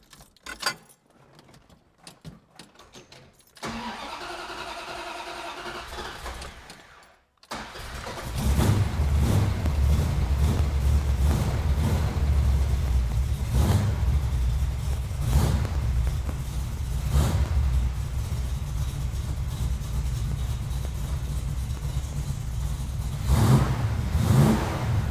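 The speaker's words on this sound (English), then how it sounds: "Let's fire this thing up, see how it does." A 1971 Dodge Demon with a 340 V8 cranks over briefly, catches and settles into a loud, steady, rumbling idle close by, with a few throttle blips lifting the engine note toward the end.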